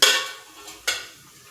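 Ingredients for thoran being mixed in a pot, heard as a couple of brief scraping, stirring strokes against the pot, fairly quiet and close.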